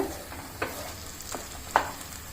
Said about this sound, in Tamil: இப்போ முட்டையை கலந்து விட்டுக்கோங்க ரொம்ப சின்ன கட்டிகளாக இல்லாமல் கொஞ்சம் பெரிய கட்டிகளாக கலந்து விட்டுக்கோங்க